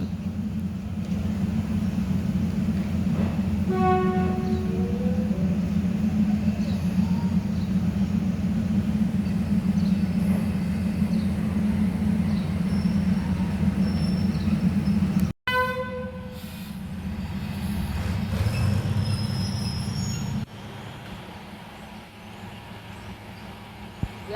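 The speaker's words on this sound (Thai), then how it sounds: "356ออกจากชันชลาที่ 11 น่าจะเข้าไปในโรงจอดรถดีเซลลาง" A diesel train pulls out of platform 11 at Bangkok's Hua Lamphong station toward the diesel railcar depot, with a constant loud engine rumble, two horn blasts, and a sudden drop as the train moves off, no talk.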